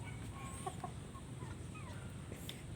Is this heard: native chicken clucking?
yes